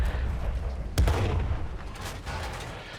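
Tank cannon fire in the World of Tanks video game: one heavy booming shot rings out over a low rumbling game background.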